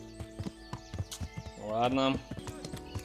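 Horse hooves clip-clop in the medieval video game Kingdom Come: Deliverance, a quick run of light, evenly spaced thuds followed by a brief whinny-like swell, moderately close, with a short spoken word over it.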